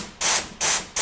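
Compressed air blasts through a small orifice in a clutch drum from a torn-down 6L80 transmission, three sharp, loud hissing bursts in quick succession, each cutting off abruptly.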